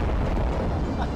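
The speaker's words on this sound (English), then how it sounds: "Where's the explosion? There it is!" A huge energy-blast explosion from a x10 Kamehameha in the video game Dragon Ball Unreal, a dense, sustained low roar that stays loud and rumbling throughout without a break.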